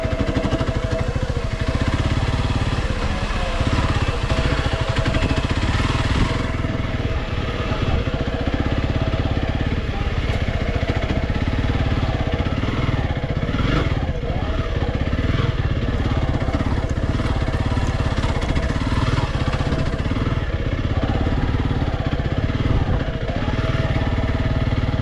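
A Honda CRF300L Rally motorcycle engine drones steadily and loudly, close up, while riding a wooded single-track dirt trail. Throttle surges come and go in a continuous ride with wind buffeting the microphone.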